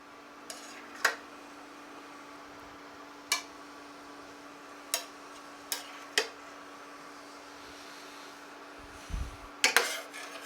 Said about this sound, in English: take each one of your pork chops and place them on your dish, just like this.